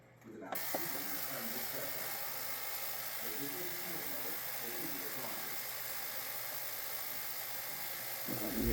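A steady mechanical whir of a drill runs continuously at close range during maintenance on a TLR 22 5.0, with faint voice-like murmurs underneath and a brief louder burst at the end.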